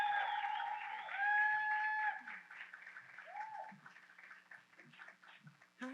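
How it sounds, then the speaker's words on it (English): An audience claps to welcome a presenter to the front at a sex worker health and harm reduction training. The applause is steady and fairly loud, with tonal whistles or whoops riding over it, then it thins out toward the end. "if we can muster up the loudest hand clap we can possibly provide to welcome"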